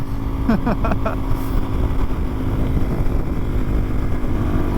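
A supermoto motorcycle rides off-road, its engine giving a continuous rough drone with wind buffeting, and a brief burst of higher revving early on.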